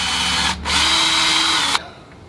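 A power drill whines steadily while driving an eye bolt into a wooden window screen frame for a historic house. It pauses briefly, starts again and then cuts off abruptly, loud and close, with no speech.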